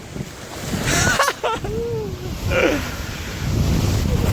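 On the coast at Iğneada, Turkey, wind buffets the microphone while sea waves wash and surge nearby, a brief bit of voice rising over the roar before the surf swells again.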